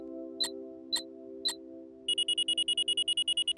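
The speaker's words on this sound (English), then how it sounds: "When the alarm sounds, that means it's time for a break." A cartoon invention that reminds kids to take breaks sounds its alarm: three separate beeps come first, then a fast, steady run of bright electronic beeps over a low hum, with no speech.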